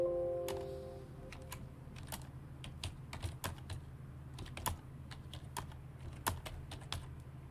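Clicks of typing on a computer keyboard, heard as irregular, fairly close keystrokes in short clusters against a quiet background hum.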